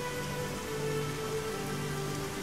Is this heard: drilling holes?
no